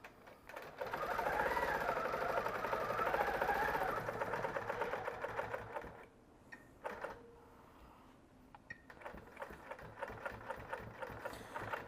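Sewing machine stitching through a quilt, a steady loud whir for several seconds, then pausing and restarting in shorter bursts with small clicks and handling noise between runs.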